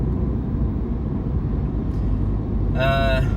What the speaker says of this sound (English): there's quite a lot of tyre noise